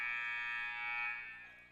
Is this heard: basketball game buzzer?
yes